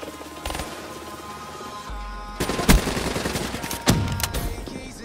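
Gunfire from the ICR rifle in a Black Ops 3 hardpoint match, with rapid automatic bursts and sharp close shots, a couple of heavy impacts standing out over continuous battle noise.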